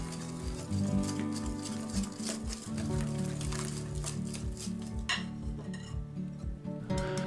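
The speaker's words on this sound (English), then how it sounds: "Now give that a good whisk into a smooth batter." Orange and lemon cake batter being whisked in a bowl, with a steady rapid clatter and scraping of the whisk against the bowl, close and continuous with no talking.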